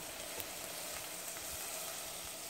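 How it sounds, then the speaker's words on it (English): Chopped onions and shallots hit hot caramelized sugar in a pan for braised catfish, giving a steady, dense sizzle that holds level throughout with no talking. "I am going to put the onions, shallots, chopped shallots"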